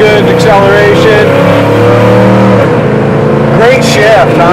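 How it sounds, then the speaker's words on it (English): A 1970 Chevrolet Chevelle accelerating hard, its loud, close engine roar climbing steadily in pitch and surging again near the end. "Tire squealing, good acceleration."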